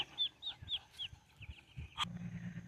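Muscovy duck hen sitting on a nest of eggs on a homestead, giving a series of soft, quiet squeaky calls and low murmurs at close range, with a faint hum in the background.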